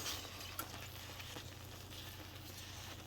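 Pork chops fry in a pan with a bay leaf in the mixture, giving a steady, soft sizzle and crackle that holds evenly throughout, with a faint clink near the start and no talking.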